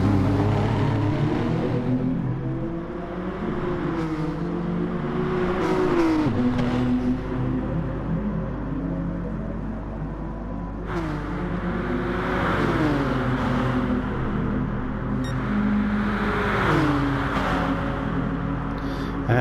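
Race cars lapping Fuji in a racing video game, engines whining and revving continuously with gear changes and rising pitch as several cars run close together, loud and steady throughout.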